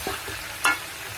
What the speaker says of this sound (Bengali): চিকেনগুলো সুন্দরভাবে নেড়ে চেড়ে নেব